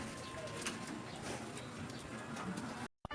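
Pigeons coo steadily inside a loft as the flock settles in, a soft continuous murmur of several birds that cuts off abruptly near the end.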